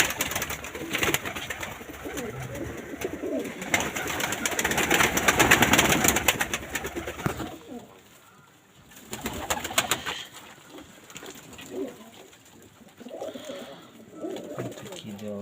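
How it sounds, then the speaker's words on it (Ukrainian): Pigeons coo softly in a sheltered space, their low burbling calls mixed with flapping and rustling, while someone talks nearby. "Вот тут, короче, голуби у мене сидять."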